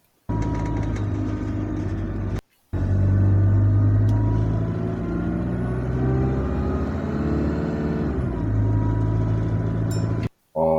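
A bus engine moans loudly and continuously, its drone rising and falling in pitch with engine RPM, with two brief dropouts to silence.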